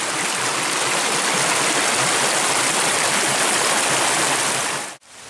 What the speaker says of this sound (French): On est en train de se prendre la pluie, on entend tonner, l'orage est là.